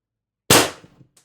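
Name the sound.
shot fired from an X-68 Punisher build pistol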